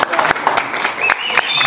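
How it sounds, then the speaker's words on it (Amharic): A crowd claps for a boxer returning to the ring after 25 years, scattered sharp claps rising under someone speaking loudly over them. "አጨብጭቡለት።"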